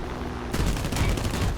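Heavy cannon fire in the War Thunder air-combat game, from an HS-129 attack plane diving in, erupts as a dense, rapid burst of loud booming shots after a brief quieter moment.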